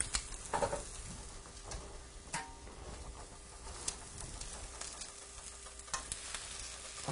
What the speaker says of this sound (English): And now I'm going to add my squeezed spinach.